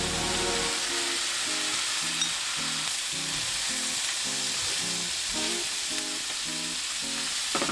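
Thinly sliced pork with onions and spring onions frying in a pan over medium-high heat, a steady close sizzle with faint rhythmic stirring taps throughout.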